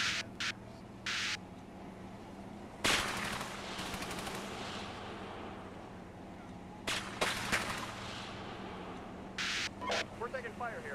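In a tactical war video game, machine gun fire crackles in sharp bursts over a steady low hum, with scattered gunshots and radio-like static, while voices talk over the action.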